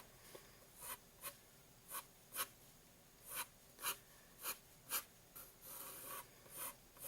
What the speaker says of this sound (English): I'm just gonna draw a beach ball.